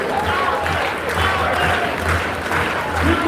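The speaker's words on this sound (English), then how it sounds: "guys. Keep clapping." Steady, dense clapping from an audience at a live award event fills the whole stretch, with a low murmur of voices and some talk underneath.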